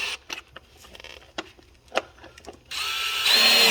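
A power drill tightens bolts on a Razor MX400 electric scooter, heard first as scattered clicks and short taps and then as a loud, steady whirring drive that runs to the end, with no voices.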